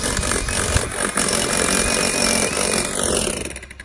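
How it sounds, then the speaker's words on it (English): A jackhammer hammers continuously at a construction site where house piers are being prepared, giving a loud, dense, rattling roar that tapers off at the end. "he's got the jackhammer going"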